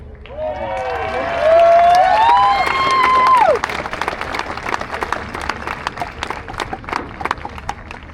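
Graduation audience applauding the commencement speaker, with a crowd clapping and cheering. A bright whistle or squeal rises and falls near the start, then sustained scattered clapping continues.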